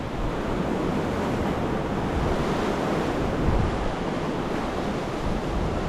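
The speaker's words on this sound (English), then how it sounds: "Or to get away from this wind." Strong wind blows along a seashore, a loud, steady roar of rushing air mixed with surf and buffeting against the microphone, continuous throughout with no voices.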